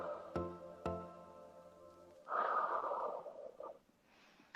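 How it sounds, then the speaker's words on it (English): A person breathes in and out during a stretching exercise in a live fitness class, with several slow, close breaths followed by a louder, longer exhale. "breathing in and out"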